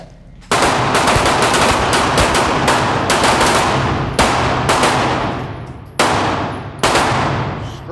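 Handguns fire loud, close shots during a shooting class drill, the reports coming in rapid bursts and pairs with sharp cracks and brief ringing decays across the whole stretch, no talking.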